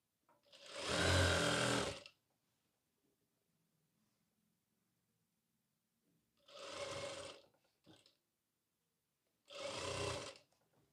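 A sewing machine stitches a strip on a ladies' pant in three close, loud runs: a longer burst of about two seconds, then two shorter bursts after a quiet gap.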